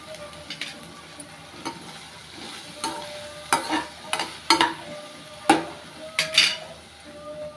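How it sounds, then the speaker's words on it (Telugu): Asafoetida hits hot oil in a pan while making a bachali leaf (Malabar spinach) chutney, a low steady sizzle broken by repeated sharp clinks and scrapes of stirring against the pan, with no talking. "కొంచెం అయితే ఇంగ వేస్తున్నాను."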